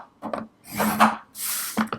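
A tool is drawn across paper on a scoring board to make a half-inch score line. Several short rubbing scrapes come close up, one after another, with brief gaps between them.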